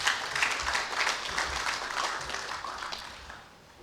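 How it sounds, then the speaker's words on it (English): Conference audience at a directors of lands gathering breaks into applause, a dense, fairly distant patter of many hands that holds steady and then tapers off toward the end. "So I think he deserves another applause"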